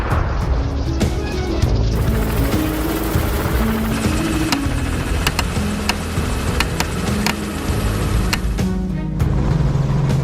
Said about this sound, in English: the helicopter roared back to life and we resumed our pursuit